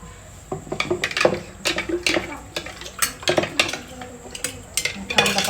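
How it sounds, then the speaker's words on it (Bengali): Knife cutting a malta orange in a busy home kitchen while preparing juice for an iftar meal, sharp knocks on a board amid clinking dishes and utensils, irregular and close, with faint voices in the background. "আমি একটা মালটা কেটে জুসের মধ্যে দিয়ে দিচ্ছি"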